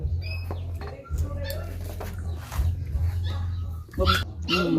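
A dog barks and whimpers amid lively talk and household noise, with a steady low hum running underneath.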